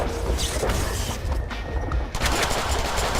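Sustained rapid gunfire in the Deadpool video game, a loud, dense burst of shots that runs almost without pause, briefly thinning out before picking up again.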